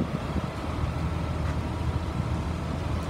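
The engine of a 2003 Blue Bird All American 72-passenger school bus runs steadily, a dense low rumble with a broad wash of mechanical noise, continuous and fairly close, with no talking.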